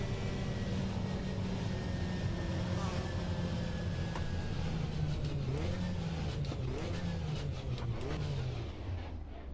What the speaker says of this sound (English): Sad Honda noises.